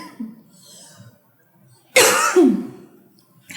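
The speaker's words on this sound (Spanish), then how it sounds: "Ay, la tos." A woman coughs in a sharp, loud burst that leaves her voice rough for a moment before quiet resumes, heard close up during a podcast conversation.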